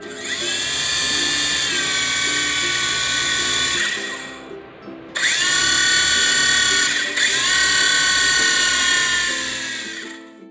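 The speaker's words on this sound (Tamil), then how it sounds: "ஹெலிகாப்டரை ஆன் பண்ணுறதுக்கு பேக் சைடு இந்த மாதிரி குட்டி பட்டன் கொடுத்துருக்குறாங்க." A toy remote-control helicopter is switched on, its small rotor motor whining loudly and steadily close by, cutting out briefly partway through before spinning back up and running on.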